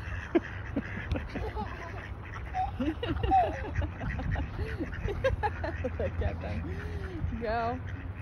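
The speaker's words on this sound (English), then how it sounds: "Are you chasing the ducks?" Ducks quack repeatedly while being chased, a busy run of nearby honking calls over low rumbling background noise, with voices mixed in.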